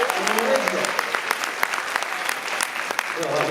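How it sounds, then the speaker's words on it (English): An audience at a convention panel breaks into steady applause, a dense wash of clapping that holds for several seconds with a voice speaking briefly over it. "Round of applause."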